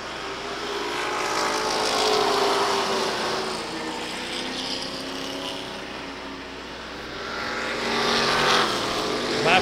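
Racing trucks roaring around the Waterford Speedbowl oval in a truck feature race, engines droning loudly and continuously, swelling and fading as they pass, with no talk.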